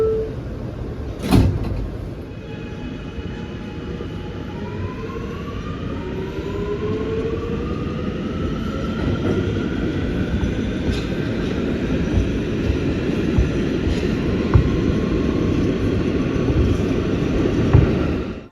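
A New York City Subway G train runs between stations just past Hoyt-Schermerhorn, heard from on board. A loud, continuous rumble carries a slowly rising motor whine, with one sharp clank near the start and scattered rattles throughout.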